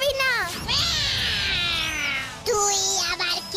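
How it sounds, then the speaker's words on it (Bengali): A cartoon cat in a kids' show meows loudly in long, wavering, drawn-out cries, then gives a shorter meow after a brief pause. "এই হলো বিড়াল"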